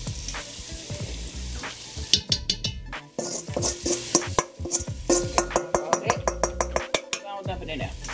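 Flour dumped into a sizzling pot of vegetable beef stew and stirred, a steady frying hiss under quick, rhythmic scrapes and clinks of a utensil against the pot, with a voice talking.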